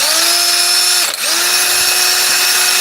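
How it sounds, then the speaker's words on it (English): A cordless DeWalt drill runs on a repaired battery, whining at steady pitch for about a second, briefly stopping, then spinning up again and holding a loud, even tone. "And we'll try it on a drill"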